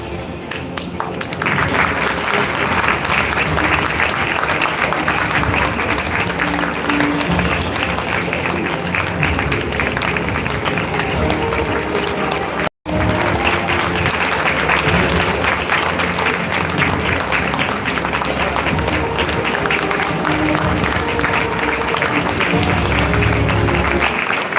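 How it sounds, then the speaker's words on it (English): A large audience at a school annual day gives a sustained, dense round of applause for subject toppers, loud and continuous for over twenty seconds with only a momentary break midway. "Let's take a moment to appreciate and applaud our subject toppers for their outstanding"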